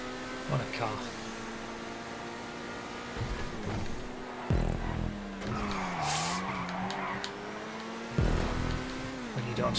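Turismo Classic sports car in a GTA 5 race, engine droning with shifting pitch as tires squeal and skid through corners, with a few loud thumps, close and continuous.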